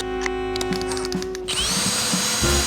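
DeWalt drill boring a large hole through steel: a steady motor whine with grinding cutter noise, which changes and roughens halfway through as the bit breaks through and slips, loud and close.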